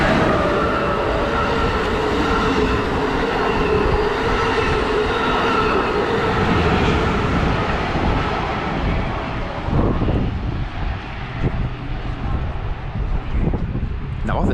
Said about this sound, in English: But in the meantime, a fast train.